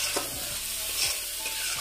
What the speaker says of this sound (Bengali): এবার ভালো করে মিশিয়ে নেবো মশলাগুলো দিয়ে